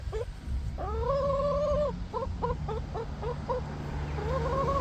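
A hen makes a long drawn-out cry followed by a series of short clucking notes, ending in another rising call, fairly close over a low rumble.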